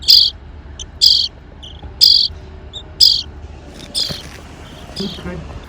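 Baby starlings tucked in a deteriorated roof vent give sharp, high chirps in short bursts about once a second, loud and close, with faint talk in the background.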